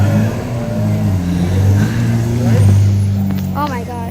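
A Lamborghini Aventador V12 revs loudly at close range in a busy Car Week nightlife street, its engine tone rising and falling over steady traffic noise, with excited voices nearby.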